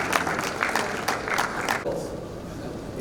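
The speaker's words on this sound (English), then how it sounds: "A round of applause for him, please." A short burst of crowd applause at an annual assembly of registered quantity surveyors, dense clapping at moderate distance that thins out after a couple of seconds.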